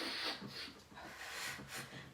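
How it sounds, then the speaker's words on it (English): Quick, sharp sniffing inhalations during a Pilates mat exercise, a series of short breathy nasal pulls in a loose rhythm, close and fairly quiet. "All right, sniffing breath."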